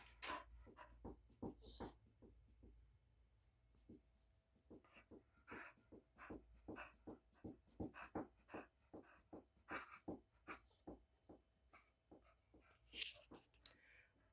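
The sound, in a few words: dog panting and whimpering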